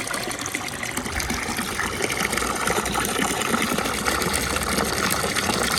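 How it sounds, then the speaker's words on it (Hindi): Water gushes steadily and loudly into a tub being filled for two ducklings in a village yard, a continuous broadband rush with no talk over it. "तो पानी हम भर लेते हैं।"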